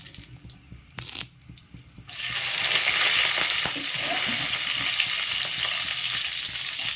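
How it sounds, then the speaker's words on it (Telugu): Dry red chillies and curry leaves drop into hot oil with lentils for a drumstick milk curry, setting off a loud, steady sizzle close by after some earlier stirring and clatter. "ఇట్లా అన్ని దోరగా వేగిపోయాక ఒక్క 2 ఎండుమిర్చి వేసేసి కొంచెం కరివేపాకు"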